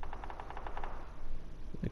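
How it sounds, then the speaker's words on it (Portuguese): MK12 rifle fire in the video game PUBG: a rapid string of sharp reports crackling in quick succession, then a ringing tail, loud and close with no talking. "Nocauteou com um tiro de MK12 na cabeça"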